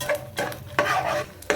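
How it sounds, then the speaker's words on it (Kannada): Something stir-fries in a pan until reddish: a short burst of scraping, stirring strokes and soft sizzling comes in four uneven pulses, close and fairly loud, with no talking. "ಇದು ಕೆಂಪಾಗೋವರೆಗೂ ಹುರ್ಕೊಳ್ಳಿ, ಫ್ರೈ ಮಾಡ್ಕೊಳ್ಳಿ."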